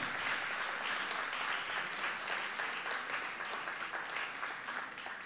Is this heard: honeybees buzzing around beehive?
no